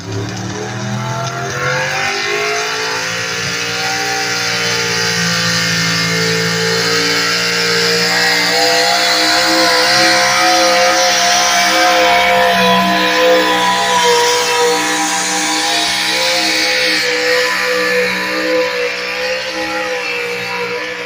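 A heavily modified truck or tractor roars at full throttle during a tractor pull competition, its loud, sustained engine revving with rising and falling pitch and no talk over it.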